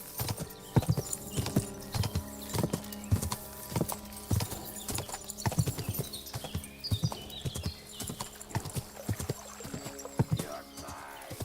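Horse hooves clip-clop in a steady, rapid rhythm throughout, broken by occasional neighs, from a galloping mount in Kingdom Come: Deliverance II, with faint background noise.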